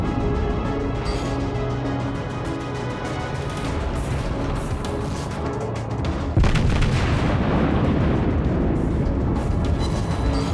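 The main guns of the USS New York battleship fire in World of Warships, heavy booming salvos over a continuous roaring rumble that swells louder partway through.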